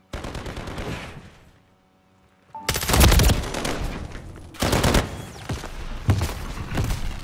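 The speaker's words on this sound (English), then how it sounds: "Oh, someone shot me in the back." Gunfire in Call of Duty, with rapid bursts of loud, close shots in two main volleys separated by a quiet gap, punctuated by heavy thuds.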